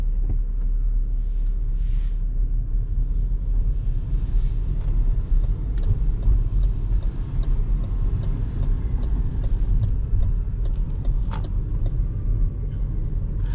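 An MG ZS hybrid pulls away, producing a steady low road and engine rumble heard from inside the cabin, fairly quiet and even, with a few faint clicks and no talking.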